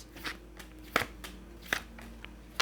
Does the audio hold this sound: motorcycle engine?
no